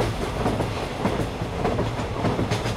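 A train speeds along the rails with a steady, loud rumble and faint repeating clickety-clack from the wheels, filling the whole stretch with no voices.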